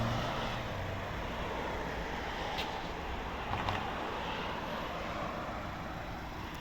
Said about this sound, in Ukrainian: Заведений працює рівно тихо.